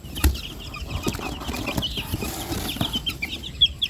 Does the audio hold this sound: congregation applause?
no